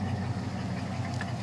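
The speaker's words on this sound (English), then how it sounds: "we've been sitting here idling" A 1963 Ford Fairlane 500 sits idling on a hot day, its engine keeping up a steady, even low rumble close by with no other sounds over it.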